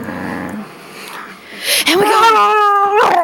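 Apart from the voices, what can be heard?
dog growling and howling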